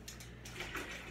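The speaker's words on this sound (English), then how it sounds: "I'm gonna put another bottle of water in there." Bottled water pours into a cooking pot in a short, steady splashing stream.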